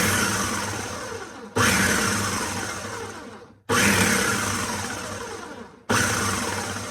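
A blender purees soup loudly in three bursts, each starting abruptly and slowly winding down, with a thick churning roar and no voices.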